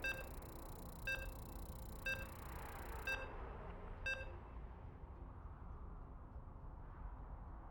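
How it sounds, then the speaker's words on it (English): StarCraft 2 sounds a countdown while loading into a match, with five evenly spaced short beeps about a second apart, faint under a steady noisy background. "As you can hear the beeps, we're loading into game number 2."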